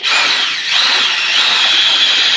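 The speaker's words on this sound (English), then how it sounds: "the inner and outer skins of fiberglass do take a little more effort to drill through." A power drill bores through the fiberglass inner and outer skins of an expedition camper wall, a loud, close, high-pitched continuous whine with a brief dip in load partway through.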